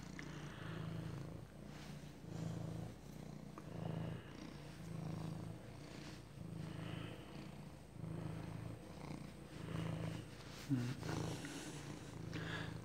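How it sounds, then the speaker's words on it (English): A male cat purrs loudly and close by in a steady rhythmic rumble that rises and falls with each breath, continuing through the whole stretch with no talk. "he's purring pretty loudly"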